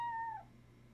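A cat meows once in a video game screensaver, a short, fairly loud tonal call that slides and fades out over a steady low background hum.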